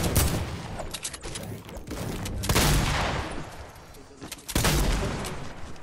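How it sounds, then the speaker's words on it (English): Rapid bursts of video game gunfire from a console shooter, loud and continuous, with heavier volleys around the middle and near the end and no talking over it. "Look, my gun keeps shooting."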